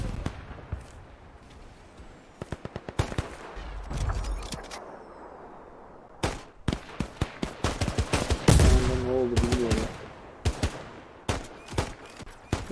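Weapon effects in a Roblox Iron Man simulator game: sharp, repeated shots fire in rapid bursts with uneven gaps. A louder, denser flurry builds in the second half, mixed with a brief tonal whine.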